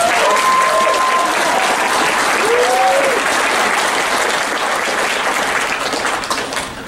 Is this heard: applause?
yes